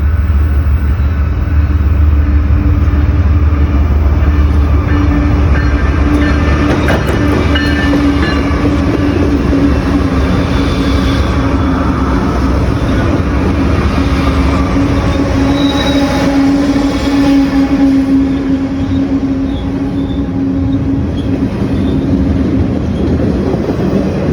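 A train rumbles along the rails steadily and loudly, wheels squealing faintly and clattering, with no horn or voices.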